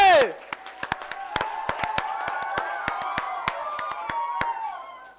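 An audience applauds a singer from Rona after his performance of a song at a stage show; scattered, crisp claps ring out steadily over a sustained crowd murmur, following a brief voice at the start.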